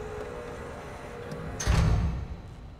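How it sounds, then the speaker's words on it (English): A door shuts in the video game Riven, with a heavy low thud rising out of a steady ambient hum and fading over about a second, close and moderately loud with no talking. "Sounds like the door's shutting."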